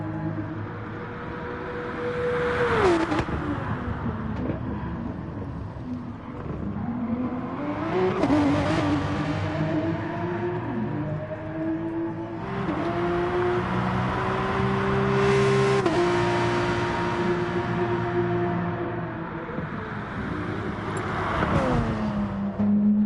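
Race car engine on a flying lap in GT Sport, GR3 class, droning steadily with repeated gear shifts, falling pitch under braking and rising revs on acceleration, loud and continuous with no voices.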